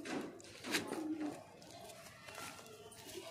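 A pigeon held in someone's hand gives a brief low coo and soft rustling close by, with someone speaking over it.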